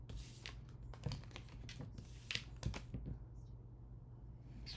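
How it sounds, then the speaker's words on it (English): Tarot cards being shuffled close by in a few quick riffling bursts, soft flicks and taps with a low hum underneath, fairly quiet. "Let me shuffle a little bit"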